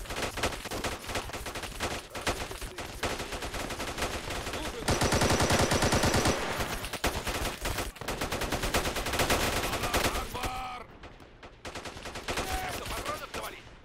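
Sustained gunfire in a Call to Arms battle at an Afghan village against a Russian force: dense bursts of rifle and machine-gun shots, loud and continuous, with a heavier crackling barrage mid-way and a brief lull near the end.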